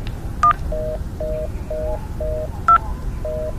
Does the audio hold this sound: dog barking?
no